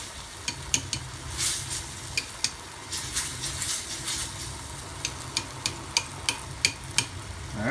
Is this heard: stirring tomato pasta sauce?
yes